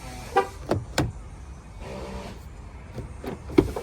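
A 2019 Dodge Ram 1500 answering a keyless entry fob: a few sharp clicks and clunks of the door locks and short electronic beeps, close by in a quiet space, with a soft mechanical whir in between.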